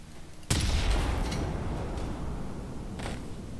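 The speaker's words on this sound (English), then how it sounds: "point blank range with an explosive gas can" An explosive gas can detonating at point-blank range in a video game: a sudden loud blast lands about half a second in, then a long roaring rumble with a second flare-up near the end.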